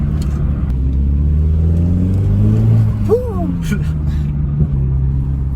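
A Renault Megane 4 RS Trophy sports car engine drones loudly from inside the cabin, rising and falling as it revs through gears, with a brief voice breaking in partway.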